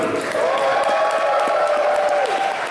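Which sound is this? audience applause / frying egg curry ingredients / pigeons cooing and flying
audience applause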